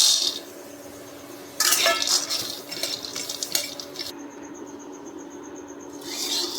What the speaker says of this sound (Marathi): कढईमध्ये आता शेंगदाणे भाजून घेऊया आपण